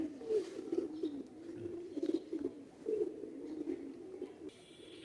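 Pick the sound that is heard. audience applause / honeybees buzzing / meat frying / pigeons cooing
pigeons cooing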